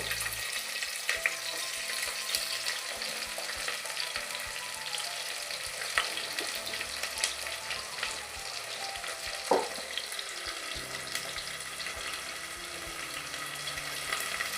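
Green chillies and onions fry in hot oil as the base for mutton keema, a steady close hiss and sizzle with occasional light stirring clinks, no voices.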